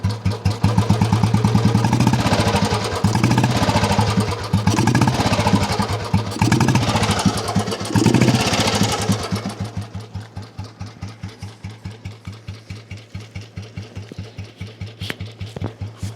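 Royal Enfield Classic 350 single-cylinder motorcycle idling up close, a steady loud thumping beat that revs slightly in the first half, then settles into a slower, even putter with no talk.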